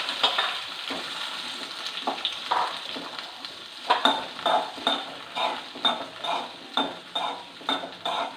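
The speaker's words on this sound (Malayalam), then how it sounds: "ചീനിച്ചട്ടി ചൂടായി അതിനകത്തോട്ട് നമുക്ക് ഈ കോവയ്ക്ക ഒന്ന് വഴറ്റിയെടുക്കാം" Ivy gourd being sautéed in a hot frying pan for a fish-style curry: a steady sizzle with rhythmic scraping and clinking as a spatula stirs and tosses the pieces, growing more regular toward the end.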